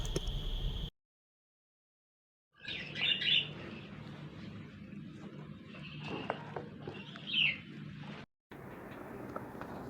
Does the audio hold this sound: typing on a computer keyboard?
no